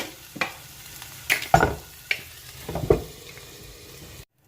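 Chicken pieces for shawarma frying in a pan, a steady sizzle punctuated by several sharp stirring and scraping knocks at irregular intervals, close and clear, no voices, ending abruptly.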